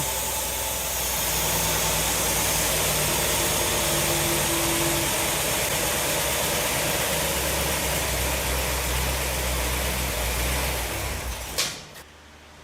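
A Ford FE V8 in a Thunderbird idles steadily after a cold start on an Edelbrock Pro-Flo 4 fuel injection, a loud, close, even rumble with low vibration that holds for about eleven seconds before cutting off abruptly.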